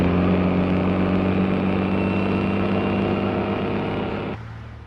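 A heavy truck's engine drones steadily at a rural smallholding, loud and close with a low rumbling hum, fading slightly and dropping off near the end.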